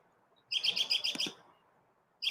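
Birds chirping outdoors in the morning, a single close, bright burst of rapid repeated tweets lasting about a second, with another call starting at the very end over quiet background.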